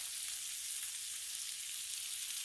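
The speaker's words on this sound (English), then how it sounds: "leave some butter there. Let it melt into the project." Butter sizzles and fries steadily on a hot Blackstone griddle beside frozen pierogies, kielbasa and cabbage, a close, even hiss with no talking.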